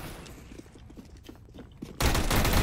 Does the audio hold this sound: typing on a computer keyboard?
no